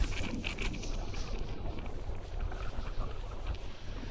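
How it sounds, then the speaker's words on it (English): Wind buffets the microphone with a constant, rumbling roar, broadband gusts swelling and easing throughout with no voices. "Wow, it's a windy day today."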